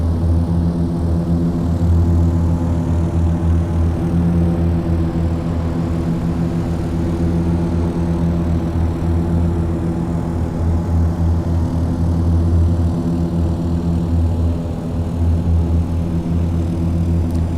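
Twin radial engines of a Beechcraft Super 18 drone steadily and loudly as power is increased in flight, a continuous low, throbbing hum filling the cabin without a break.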